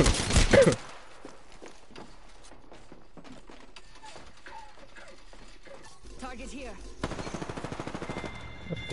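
Apex Legends video game gunfire: a loud burst at the start, then faint clicking mechanical sounds and a rapid rattling volley near the end, with voices talking at moments.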